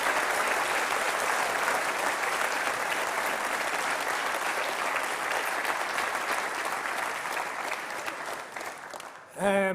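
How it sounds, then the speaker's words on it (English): A hall full of people gives a sustained round of applause at a civic reception for Meath minor footballers and county legends; dense, loud clapping runs unbroken before fading, and a brief burst of speech or noise comes at the very end. "just a round of applause, please, for Meath legends Graham Gertie, Colin O'Ro"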